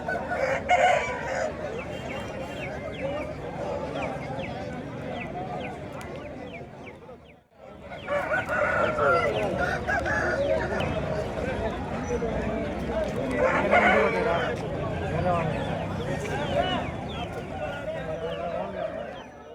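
Roosters crowing repeatedly amid clucking fowl at a busy weekly village market, with crowd chatter and bargaining voices throughout and a brief dip in the noise midway.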